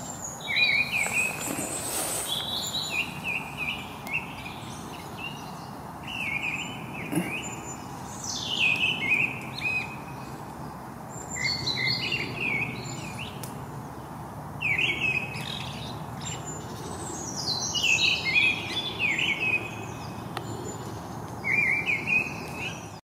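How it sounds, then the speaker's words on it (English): A song thrush sings repeated short phrases of clear whistled notes, moderately close, over a steady background of insect buzz and outdoor hiss. "I can hear a song thrush singing quite close to me now"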